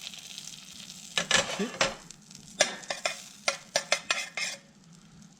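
Butter sizzles in a pan, a low hiss broken by bursts of crackling spatter and the scrape of a utensil, close and fairly quiet, with a brief spoken phrase near the start.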